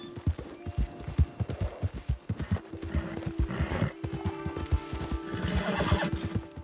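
In Red Dead Redemption 2, a horse gallops with fast rhythmic hoofbeats and whinnies several times, loud and close, with gunfire-like cracks in the mix.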